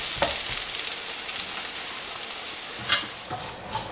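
Onions roasting in a pan over a medium flame, a steady soft sizzle with a few louder stirring scrapes near the start and end, close and alone with no voices.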